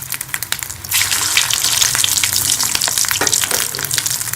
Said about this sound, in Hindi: तो अब हम इसमें ये स्नैक्स जो हैं ये फ्राई कर लेंगे।